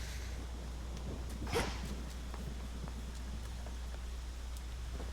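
Steady rain falling in the underworld game Hades II, a soft, even hiss of drops that continues for the whole stretch with a brief louder patter near the start and no one talking.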